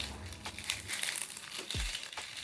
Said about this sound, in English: And after washing, I will fold my lemongrass.